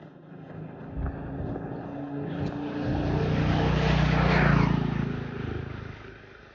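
A DJI Neo 2 drone buzzes steadily as it flies and follows along outdoors, its whirring swelling louder as it passes close and then easing off.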